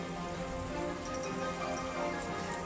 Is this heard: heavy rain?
yes